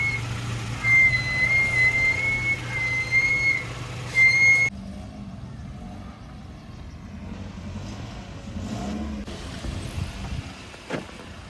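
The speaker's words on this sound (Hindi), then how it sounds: "तो चलें फिर निकालते हैं गाड़ी को और रवाना होते हैं यहाँ से इंशाअल्लाह" A car pulled out and driven away; engine and road noise run steadily, with a brief beep and some clatter near the start, and the sound turns quieter and more muffled partway through, with no talking.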